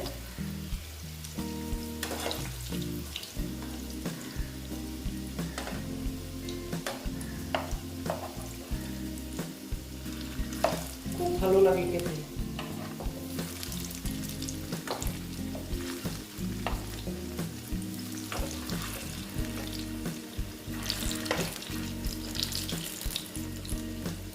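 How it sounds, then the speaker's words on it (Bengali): Flattened pieces of a flourless home recipe fry in overheated oil, a steady close sizzle and crackle with occasional bubbling bursts and spatters running throughout. "এগুলো ভেজে নিচ্ছি দেখো তেলটা আমার বেশি গরম হয়ে গেছে"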